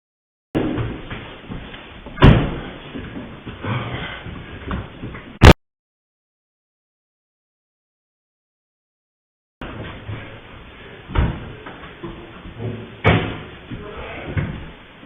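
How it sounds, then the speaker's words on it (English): Man kicking a door on security camera footage: two bursts of loud, sharp thuds and slams with low-fidelity muffled noise, separated by several seconds of silence. "So he literally tries kicking the door down"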